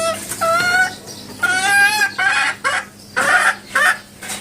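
A laying hen clucks loudly and close up in a series of drawn-out, rising calls and short clucks, with no talk over it.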